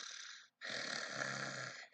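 A voice reading a children's story imitates a hedgehog snoring, giving two drawn-out raspy snores that are close and clear, split by a brief pause.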